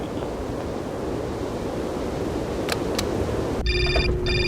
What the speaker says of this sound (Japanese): また電話。